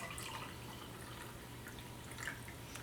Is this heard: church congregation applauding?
no